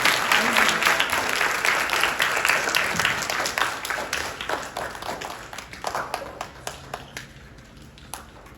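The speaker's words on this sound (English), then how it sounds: "Could you give them all a round of applause?" Applause from a school audience at a first and third grade pinning ceremony, a dense burst of clapping that starts loud and gradually thins into scattered individual claps toward the end.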